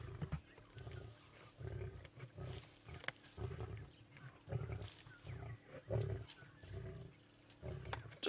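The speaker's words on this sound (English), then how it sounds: "Listen carefully, that male's growling every now and then." A male lion growls repeatedly near a kill on a Sabi Sand safari at sunrise, low rumbling bursts recurring every second or so, fairly close and steady with no talk over them.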